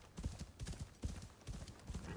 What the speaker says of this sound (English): Horse gallop glitch and all.